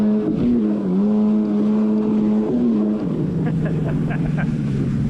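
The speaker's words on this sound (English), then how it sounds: "So I purposely got a low mile and low hour Waveblaster 2 to test it out." A Yamaha Waveblaster 2 personal watercraft runs on the water, its engine droning loud and close with pitch shifts as the throttle changes, backed by wind and water noise.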